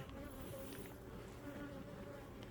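Honey bees hum in a steady, dense drone from an opened hive box with its top lifted, the buzzing close and continuous with no talk.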